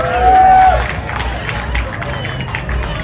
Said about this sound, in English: another round of applause for our great representatives